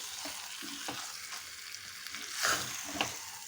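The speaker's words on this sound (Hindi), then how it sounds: "हम इसको मिक्स कर लेंगे सारे मसालों के साथ बहुत अच्छे से।" Marinated chicken being stirred with spices in a hot pan, a steady sizzle under scraping spoon strokes, with a louder burst of stirring near the end.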